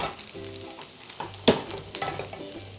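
A dashimaki rolled omelette browns in a pan over medium-low heat, a steady soft sizzle with one sharp clack of the pan partway through, close and without talk.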